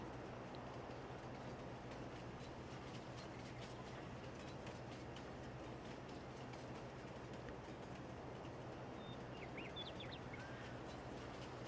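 A train rolls steadily along in Farming Simulator 22, a continuous low rumble with faint rhythmic clatter and soft chirps on top, heard distant and even throughout.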